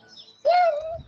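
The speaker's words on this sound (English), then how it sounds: "Do you hear any birds chirping?" A single bird calls outdoors, one clear drawn-out note lasting about half a second, close and fairly loud over a quiet background.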